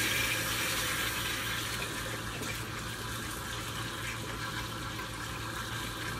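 Pork liver being rinsed under a running kitchen tap, a steady continuous hiss and splash of flowing water, alone and fairly faint throughout.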